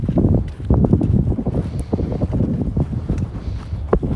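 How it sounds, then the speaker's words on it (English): Gusty wind buffets the microphone on the Sliding Sands mountain trail in Haleakala National Park, Maui, a loud, continuous roar with crunching footsteps underneath. "So, wind gusts like this ain't bad."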